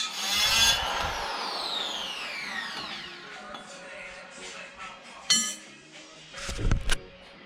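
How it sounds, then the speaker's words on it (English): Aluminum intercooler pipe being cut with a power tool during a budget K-swap intercooler install, a harsh grinding, screeching cut loudest in the first second, then fading, with a few sharp clanks and knocks near the end. "I've never cut aluminum with that, and it put dust everywhere."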